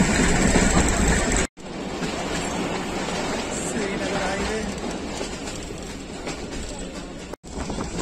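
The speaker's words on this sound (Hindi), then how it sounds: "डाउन आल एक्सप्रेस अपने पहले स्टेशन कोलोरा शरीफ जंक्शन पर पहुंच रही है।" The Thall Express train pulling into Kolora Sharif Junction in Pakistan, a steady loud rumble and rattle of rolling wheels and carriages, broken by two brief cuts, with a voice talking over it.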